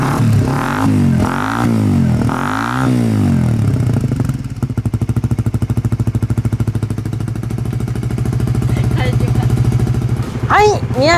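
A motorcycle engine fitted with a new Yoshimura exhaust muffler revs in loud bursts, then settles into a rapid, throaty idle with a pulsing exhaust rumble, close by and sustained.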